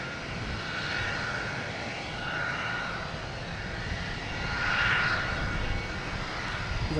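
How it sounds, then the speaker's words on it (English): A JetBlue Airbus A320 jet on the runway at Boston Logan, heading out for Orlando, gives a steady, fairly distant engine roar that swells slightly toward the end, with no voices over it. "we got a JetBlue heading on the runway"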